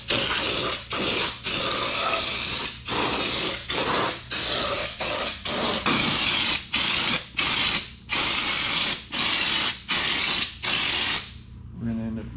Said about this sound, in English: Now we go over here and we start spraying on the bumper.